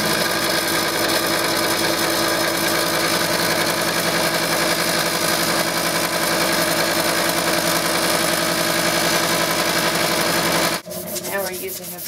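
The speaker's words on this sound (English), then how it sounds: "Now we are going to file down the edges. And we're using a grinder" Grinder filing down the edges of a new pool cue tip, a steady, loud abrasive whir with engine-like drone running continuously for about eleven seconds before cutting off abruptly, leaving faint rustling.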